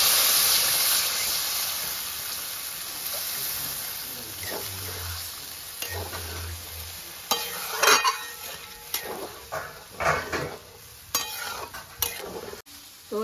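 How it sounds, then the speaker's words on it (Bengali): Water poured into a hot pan of fried potato and spice masala sets off a loud steady hiss that fades, followed by scattered scraping and clinks of a spoon stirring. "এবার আমি জল দিয়ে দিচ্ছি"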